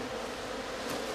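A dense, steady buzz of honeybees swarms around a group of twelve beehives, holding constant and close throughout with no talking.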